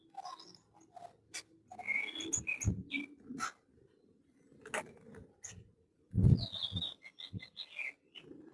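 Small golden finches chirp in short, scattered bursts of high tweets, close by, with occasional soft thumps and rustles between the calls.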